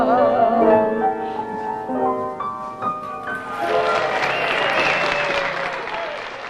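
A period film scene in which an actress finishes singing a song, her last sustained notes giving way to a swell of crowd applause that fills the second half.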